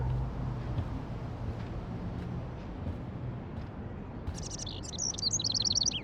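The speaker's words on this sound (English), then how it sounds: "can you help me get this bird out of here?" Bird chirping in the video game Life is Strange, a quick run of bright tweets near the end over a low ambient background.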